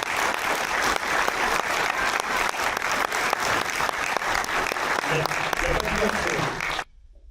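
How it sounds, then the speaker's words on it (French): A cinema audience applauds Jacques Vivian at a screening of a rugby documentary, dense sustained clapping that fills the room and then cuts off abruptly near the end. "Un tournant d'applaudissements pour Jacques."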